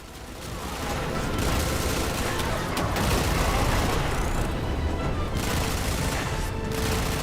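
Sustained barrage of explosions and heavy gunfire in the Warframe video game, a dense continuous roar of blasts and rapid shots that stays loud from start to finish.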